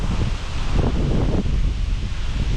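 Gusty outdoor wind buffets and roars across the microphone in a steady rumbling rush, with no talk.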